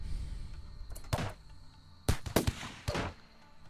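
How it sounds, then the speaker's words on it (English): Video game gunfire aimed at a squirrel in Rimworld: a few soft, muffled pops spaced irregularly across a few seconds, low in level over a quiet background hum. "Fire at squirrel!"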